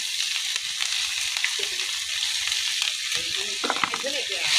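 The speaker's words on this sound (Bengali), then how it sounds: "এবার এগুলো দিয়ে আমি কিছুক্ষণ ভেজে নিব" Chopped onions, sliced green chillies, cinnamon and cardamom frying in a pan, a dense continuous sizzle with a few soft stirring clinks, close and steady, no talk.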